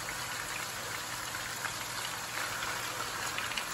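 Meat sizzling as it starts cooking in a stir fry pan for chicken curry, a steady close hiss and crackle with no talking.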